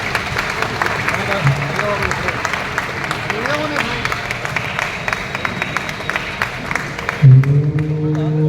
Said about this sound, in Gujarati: દીપ પ્રગટ્ય સાથે જોરદાર તાળીઓ પડી જોઈએ